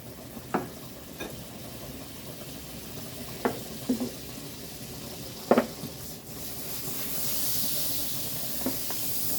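Butter melting in an already hot pan at fairly high heat as the base for a roux, giving a steady low hiss with a few brief crackles and pops and a brighter wash of sizzle toward the end.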